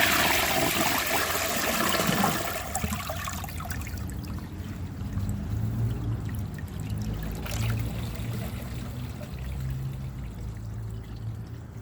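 A Duravit Starck 3 washdown toilet flushes with a loud rushing pour at first, then settles into a gentler trickle and refill as water keeps running in the bowl.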